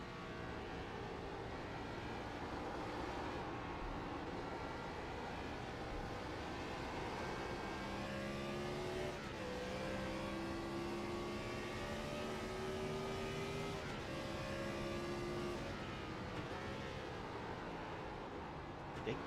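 Race cars from a Watkins Glen racing video game howl steadily through the S's, engine tones sweeping up and down as they shift and corner, sustained and fairly loud for the whole stretch with no talking.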